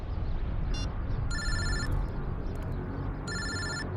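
A telephone bell rings in two bursts with a pause between, over steady low rumbling background noise.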